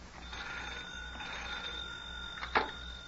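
An old-fashioned telephone bell rings faintly in a 1930s radio drama, a thin, buzzy trill heard against a quiet background and ending in a short, sharper clank.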